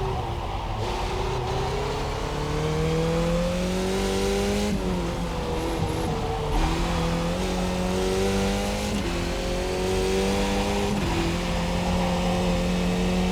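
F2000 open-wheel race car engine at Pocono South in a sim race, a loud continuous high-revving drone rising and falling with several quick gear shifts and throttle lifts, steady and close throughout.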